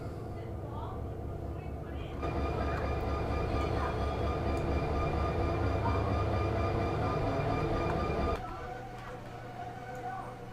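A freight train rumbles steadily in the Run 8 train simulator video game, a heavy continuous roar that swells louder midway and then drops back to a lower hum, with someone talking over it.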